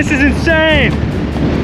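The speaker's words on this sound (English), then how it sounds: "This wind is absolutely insane!" Strong gusting wind on a mountain hiking trail near Gunsight Pass in Glacier National Park, roaring and buffeting the microphone as a steady low rumble throughout, while a person shouts excitedly over it.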